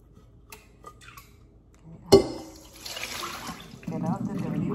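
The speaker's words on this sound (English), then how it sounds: "Get out the dirty water and just fill it up with room temperature water." Dirty water is poured out of a container and fresh room-temperature water is run back in for growing bitterleaf, a sudden splash followed by a steady hiss of filling water, close and moderately loud.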